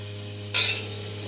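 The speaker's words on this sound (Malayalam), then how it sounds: "എല്ലാം കൂടെ ഒന്ന് ചീനിച്ചട്ടിയിലോട്ട് ഇട്ട് കൊടുക്കാതെ" Ginger, shallots, spices and pepper hitting a hot pan for roasting: a sudden sharp sizzle burst that quickly settles into a softer crackle over a low steady hum.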